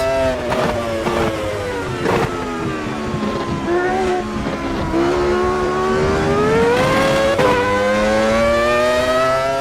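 Michael Schumacher's 2001 Ferrari V10, driven in the Automobilista 2 racing sim, screams continuously at high revs, its pitch climbing and dropping sharply through gear changes, loud and alone with no talk.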